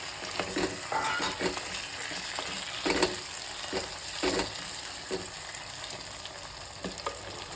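Onions and chopped tomatoes frying for a fish curry, a steady close sizzle broken by scraping stirs and light clinks of a spoon against the pan, with no voices.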